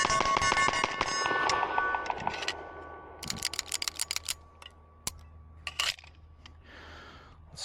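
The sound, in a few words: shot timer and MPA DS9 pistol firing rapid splits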